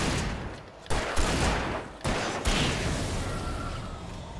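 An ally firing guns in Alan Wake Remastered, several loud bursts of shots separated by short pauses, with no talking.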